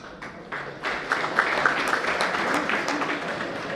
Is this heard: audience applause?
yes